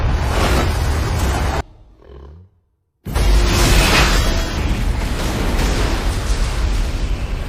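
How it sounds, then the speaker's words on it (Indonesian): A time machine explodes as a film sound effect: a loud, dense roaring blast that cuts to near silence for over a second, then erupts again into a sustained rumbling roar. "Mesin waktu Alex akhirnya meledak dan memancarkan radiasi gelombang cahaya"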